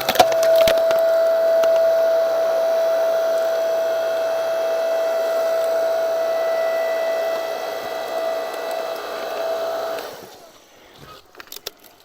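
A Ryobi 5 ton electric log splitter strains against a long log well beyond its rated capacity, a steady loud motor whine with a sustained tone and crackling wood, then the motor cuts and a few knocks follow.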